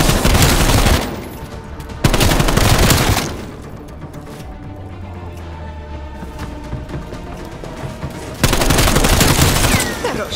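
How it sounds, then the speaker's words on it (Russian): Bursts of automatic gunfire in the Call of Duty Black Ops Cold War Zombies video game, loud volleys at the start and end with a quieter stretch of distant shots and low rumble between. "Хороший выстрел."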